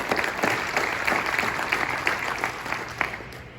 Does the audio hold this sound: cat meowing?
no